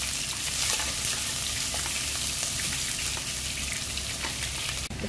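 Chopped onion sizzles and crackles steadily in hot oil for Egyptian kushary, with a dense, continuous frying hiss throughout and a brief stir near the end.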